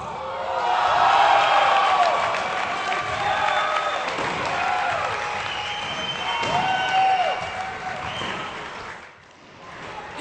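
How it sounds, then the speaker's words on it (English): Spectators applaud and cheer at a racquetball semifinal in Tampa, a fairly loud sustained burst of crowd clapping that fades near the end, with squeaking sounds audible beneath it. "That's the biggest response we've got out of the crowd this match so far."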